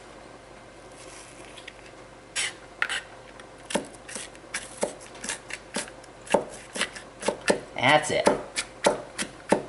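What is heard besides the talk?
knife chopping onion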